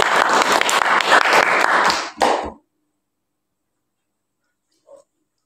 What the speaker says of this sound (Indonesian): Oke, beri tepuk tangan dulu pada kelompok.